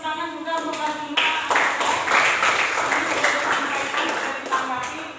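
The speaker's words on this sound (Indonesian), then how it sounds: "Beri tepuk tangan juga untuk Arjuna." Classroom applause from students for a classmate during an Indonesian-language lesson, a short burst of clapping that swells after a brief lead-in and holds steady, with voices mixed in.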